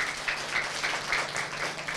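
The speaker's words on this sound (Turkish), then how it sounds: "Hadi bir alkış alalım" An audience applauds children after their performance at a show, a steady wash of clapping that carries on at moderate loudness without voices.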